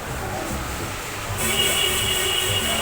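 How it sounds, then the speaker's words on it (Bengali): Steady rumble and hiss of a metro train in a station, swelling louder halfway through and holding there. "আমরা মেট্রো স্টেশনের ভিতরে আছি, এখন যাচ্ছি দক্ষিণেশ্বরে"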